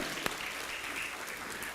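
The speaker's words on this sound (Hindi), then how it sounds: "एक जोरदार तालियां हो जाए, थोड़ा और जोर से।" Audience applause at a school parenting event in India, a brief burst of steady clapping at moderate level that continues evenly throughout.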